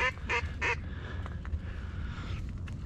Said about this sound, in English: That's a black duck.